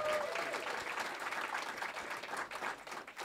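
A live audience at a storytelling show breaks into steady applause, a fairly quiet, continuous wash of clapping with faint voices underneath.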